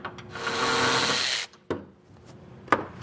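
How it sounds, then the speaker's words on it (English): A 13mm socket removes heat shield bolts on a 2018 GMC truck: one sustained whirring burst of roughly a second, then a few sharp metallic clicks and knocks, close up. "So I have a 13mm socket, and I'm going to just get some of these bolts removed."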